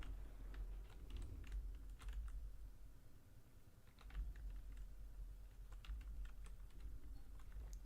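Rapid, continuous clicking of typing on a computer keyboard, close and fairly quiet, with uneven bursts of keystrokes and no talking.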